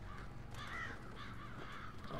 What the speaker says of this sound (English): here come the crows